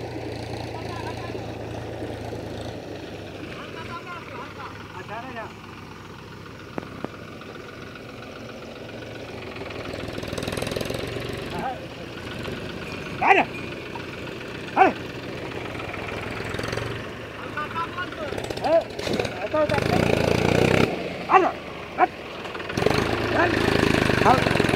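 A tractor engine works steadily while filling soil, a rough mid-pitched chug with occasional knocks and revs rising toward the end, with someone speaking over it.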